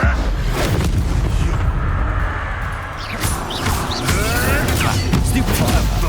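Confringo spell explosions in Hogwarts Legacy land as heavy booming blasts with crackling debris over continuous loud combat noise, a few swooshing spell effects cutting through.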